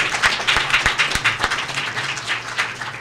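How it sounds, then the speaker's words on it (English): A room full of people applauding after presentations, dense hand clapping with a few sharp individual claps standing out, sustained and fairly loud throughout. "And so a round of applause to these folks for some excellent presentations."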